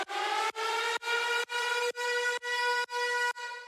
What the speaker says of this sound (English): the absolute last thing we're gonna add is this siren sound that plays in the second half of the drop